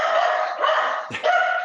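A dog barking indoors, a few sharp yelping barks close to the microphone, one loud burst partway through standing out from the rest.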